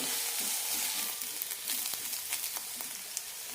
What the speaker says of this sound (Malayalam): നന്നായി വഴറ്റാം സവാള ചെറുതായി ചോക്കുമ്പോൾ തക്കാളി ഇടാം